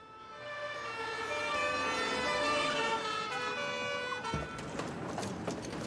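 A siren wails loudly in rising and falling tones, then gives way to clattering, noisy bursts near the end.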